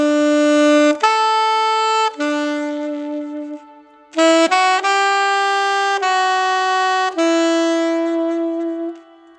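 Saxophone playing a tune in B, two short phrases of clean sustained notes separated by a brief pause, close and clear with no talking.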